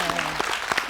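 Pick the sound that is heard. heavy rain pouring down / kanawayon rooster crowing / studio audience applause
studio audience applause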